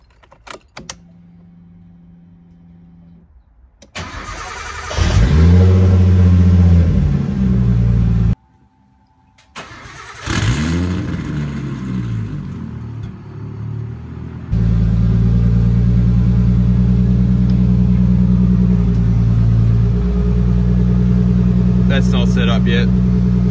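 A Nissan Laurel's turbocharged RB20ET engine cranks and catches, stalls, then cranks again before settling into a steady idle hum; brief rattles occur near the start.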